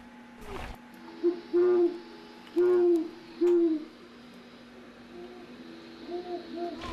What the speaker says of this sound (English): now we're at our barred owl.